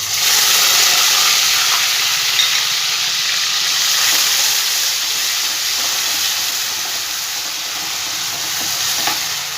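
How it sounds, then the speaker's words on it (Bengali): Ginger-garlic paste frying in hot oil in a pan over a low flame, with a loud, steady, close sizzle and hiss that continues evenly throughout without any voices. "এবার আমি এখানে দিয়ে দেবো আদা রসুন বাটাটা।"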